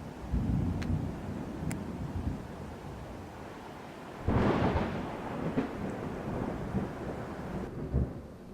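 Thunder rumbles through steady rain during a storm rolling in over a mountain campsite on the John Muir Trail, a low continuous roll with a louder thunderclap swelling about halfway and lingering, no voices.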